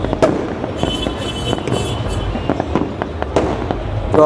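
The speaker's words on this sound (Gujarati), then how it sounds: "જો એલા ફટાકડા જવો" Firecrackers pop and crack repeatedly at irregular intervals during Uttarayan kite festival celebrations, some sharp and close, others fainter, over a busy outdoor background.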